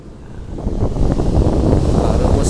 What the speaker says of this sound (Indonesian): Baru musim angin ini pantai selatan ya, anginnya kencang terus.